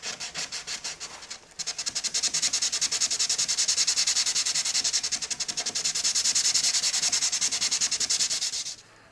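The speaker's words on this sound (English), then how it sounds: "I'm going to start by sanding it down. Very lightly." Light hand sanding across the veneer top of an antique bookshelf: rapid, rhythmic back-and-forth rasping strokes, close and steady, with a short pause early on before resuming.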